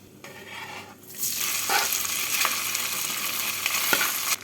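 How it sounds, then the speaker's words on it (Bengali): Whole spices for vegetable fried rice fry in hot oil with a loud, continuous sizzle that surges up after a quiet start, with occasional scrapes of a spatula stirring in the pan. "ফোড়নটাকে ভেজে নিচ্ছি"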